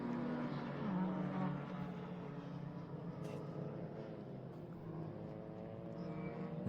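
Swift Cup Europe race cars lapping the Grobnik circuit, a steady loud engine drone holding throughout with cars passing continuously, no clear gaps between them.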